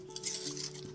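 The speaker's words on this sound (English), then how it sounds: "Mix it gently." Quiet stirring of sliced onions and green capsicum in a bowl, a soft, brief swishing and scraping with faint clinks, heard close and alone.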